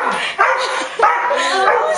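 An excited dog at a soldier's homecoming barks in short yips and whimpers, close and loud, with a few overlapping high whines and little pause over two seconds; a person's voice briefly mixes in.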